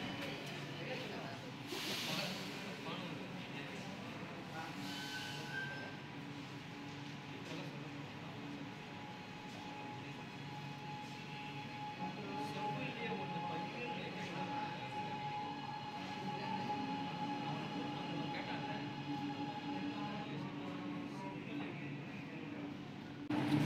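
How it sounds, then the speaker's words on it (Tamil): Chennai metro train pulling into a station on the Thousand Lights to Egmore line, a steady rumbling hiss and rail noise that swells gradually, with brief voices and station ambience around it. "இப்போ அடுத்து நம்ம சென்னை எக்மூர் போகிற ட்ரெயின் வந்துருச்சு"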